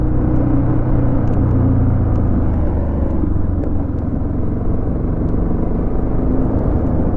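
A Buell XB12X or Yamaha 600XT motorcycle rides steadily along a country road in northern France, giving a loud, continuous, low engine rumble mixed with wind noise.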